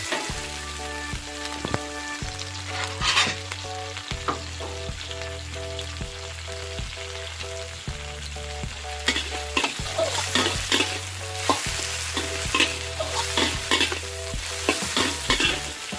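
White shrimp stir-fried in a pan for pad thai, a steady close sizzle broken by repeated clacks and scrapes of a spatula against the metal at an unhurried pace.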